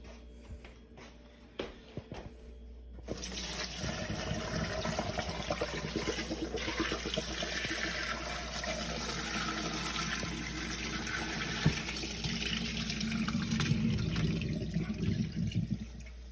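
Whey and curds pour steadily and continuously for a long stretch during cheesemaking, a sustained watery rush with no talking.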